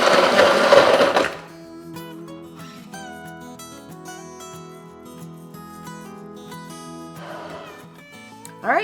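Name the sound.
blender running on frozen drink function making milkshake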